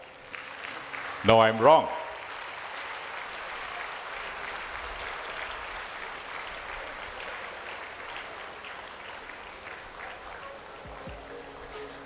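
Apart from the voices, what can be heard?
audience applause at college event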